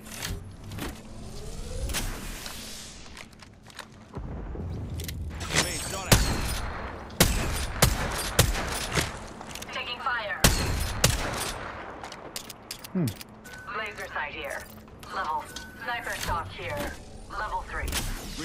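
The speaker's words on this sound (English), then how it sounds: "they're shooting me now" Gunfire in a video game: sharp, intermittent shots and short volleys at moderate loudness, with a player talking between them.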